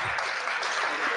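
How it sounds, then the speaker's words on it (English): An audience at a political gathering claps in a dense, continuous burst of applause that fills the whole moment, with crowd voices mixed into it. "A round of applause."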